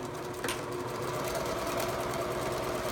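A sewing machine runs a steady, continuous stitch while back stitching along the edge of a photo pillow, its motor whirring evenly at close range with no talk.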